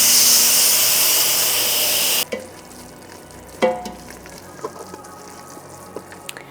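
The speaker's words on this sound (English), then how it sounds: "So the dal just finished, and I'm just gonna set it to manual release the steam." A pressure cooker that has just finished cooking red dal vents steam manually: a loud, steady hiss for about two seconds that cuts off abruptly, followed by a few light clunks and clicks in a quiet kitchen.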